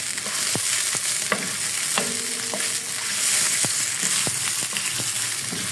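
Chicken pieces sizzle and fry in a karahi for restaurant-style chicken karahi gravy, a steady close hiss broken by intermittent clinks and scrapes of a stirring utensil against the pan, with no voices.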